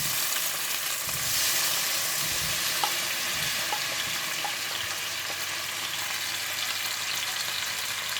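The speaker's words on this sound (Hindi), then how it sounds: "तेल गरम करने के बाद आप इसमें टमाटर डाल लें।" Tomatoes frying in hot oil for a tawa masala kabab gravy, giving a steady, dense sizzle that holds evenly throughout with a few faint stirring clicks and no talk.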